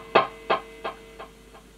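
Electric guitar through a Yamaha UD Stomp delay pedal set to a dotted-eighth delay of 347 milliseconds, with slight distortion: a single plucked note followed by four evenly spaced echoes that fade quieter with each repeat.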